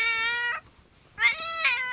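A pet cat gives two drawn-out, clear meows close by, separated by a short pause, with no one talking over them.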